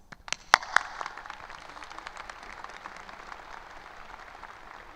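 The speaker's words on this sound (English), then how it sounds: "so let us all give them a round of applause." A graduation crowd breaks into applause, opening with a few sharp, close claps before settling into a steady, fairly soft patter of many hands that fades slightly toward the end.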